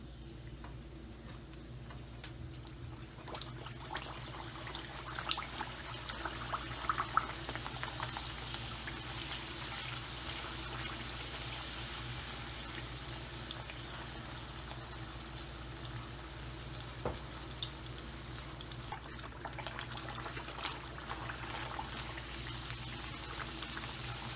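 Bihari kababs frying in oil for an Eid meal give a faint, steady bubbling sizzle that runs unbroken for over twenty seconds, with a few small ticks and pops.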